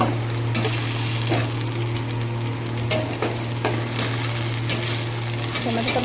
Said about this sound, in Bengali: টমেটোটা ভালো মতো কষানো হতে একটুখানি